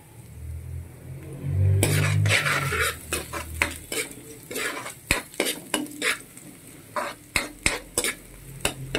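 Garlic goes into a hot pan and is stirred with a utensil, giving a loud burst of sizzle and then repeated scraping and clinking over steady frying for a papaitan of milkfish innards, no talking.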